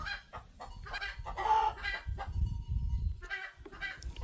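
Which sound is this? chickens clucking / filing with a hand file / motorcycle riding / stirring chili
chickens clucking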